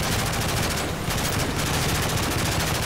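Gunfire in Call of Duty: Modern Warfare 3 during a subway train chase: a steady, rapid rattle of automatic shots that runs without pause throughout, moderately loud and with no talking.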